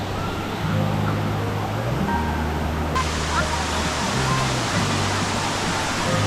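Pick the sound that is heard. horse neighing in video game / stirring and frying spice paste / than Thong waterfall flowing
than Thong waterfall flowing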